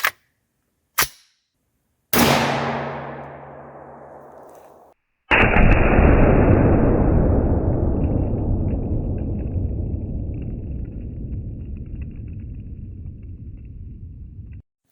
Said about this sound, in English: Gonna shoot my Ruger MPR 556. This is 62 grain green tip.